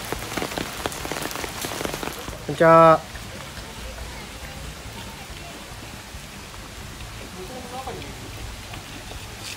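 Steady rain pattering on surfaces at Saitama Children's Zoo on a wet day, a constant close hiss throughout, with a brief tonal chime and a voice speaking a short greeting.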